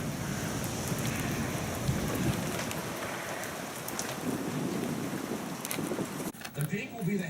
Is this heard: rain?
yes